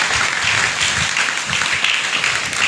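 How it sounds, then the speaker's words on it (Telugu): A church congregation claps loudly at an Easter Vigil service, a dense, even roar of applause that keeps going throughout with no breaks. "గట్టిగా చప్పట్లు కొడదాం"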